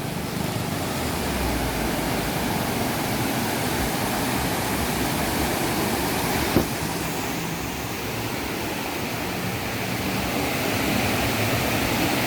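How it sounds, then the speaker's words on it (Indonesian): River water rushing steadily over rocks in a clear stream at Lawe Sikap near Kutacane, Aceh Tenggara, a constant broadband wash with no pauses and one brief click midway. "objek wisata yang berupa aliran sungai dengan bebatuan dan airnya yang bersih"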